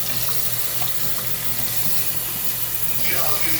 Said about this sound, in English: Let's get that rinsed off really well.